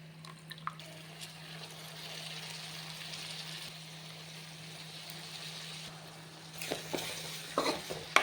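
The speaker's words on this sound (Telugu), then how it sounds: "పచ్చివాసన పోయేంత వరకు మెంతికూరను కూడా లో ఫ్లేమ్లోనే ఒక ఫైవ్ మినిట్స్ ఫ్రై చేసుకోవాలి" Fenugreek leaves frying over low flame in a pan for egg bhurji, a steady soft sizzle with a few light stirring scrapes and clinks toward the end, close and moderately quiet with no talking.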